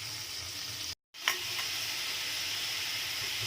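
Half a kilo of chicken hits a hot pan for chicken gravy, and a loud, steady sizzle and frying hiss swells after a brief cut and then holds.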